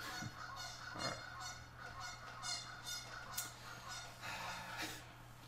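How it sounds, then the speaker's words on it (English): Ducks honk outside, a repeated series of nasal calls at a distance that sit over a steady low background hum. "Lord, those ducks are loud."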